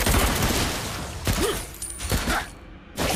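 Rapid gunfire in the video game Captain of the Reefs, a dense, loud volley of overlapping shots with brief lulls between bursts amid busy game effects.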